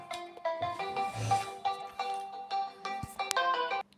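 A melodic phone ringtone plays, a bright repeating tune of short electronic notes, fairly quiet, with a faint thump partway through.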